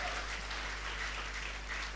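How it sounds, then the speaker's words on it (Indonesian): A church congregation claps in praise during a sermon, a faint, distant wash of applause over a steady low electrical hum. "Tepuk tangannya boleh paling meriah buat Tuhan kita"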